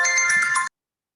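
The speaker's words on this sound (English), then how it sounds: "Nice ringtone, Wally." A phone ringtone plays a short, bright electronic melody, loud and close, then cuts off abruptly in the quiet of a meeting or training session.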